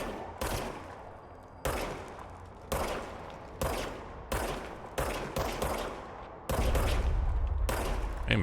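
Gunshots in the video game Control, about seven separate sharp reports spaced roughly a second apart, each with a decaying echo tail, ending in a longer sustained burst, loud and up close.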